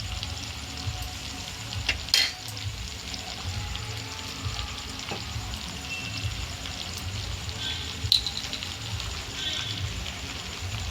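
Paneer chilli sizzling in a pan with chilli sauce, a steady low frying crackle running throughout with a couple of brief sharper clinks, no talking.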